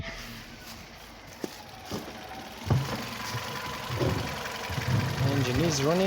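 Warm Mazda 626 GF engine idling in the background with a low steady rumble and a few knocks, quiet and partly masked as a voice talks over it.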